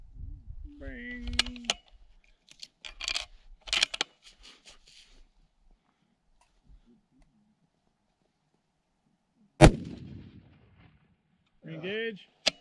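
A single long-range rifle shot at an extreme-range steel target challenge against a moving target cracks loudly and decays quickly. Scattered clicks and muffled voices come before it, and low talk follows.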